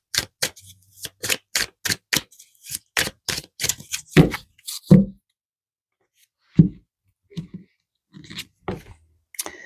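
A deck of tarot cards is shuffled and handled close up, giving a quick run of crisp, rhythmic taps and riffles that thin into scattered softer knocks and thuds with short gaps of silence.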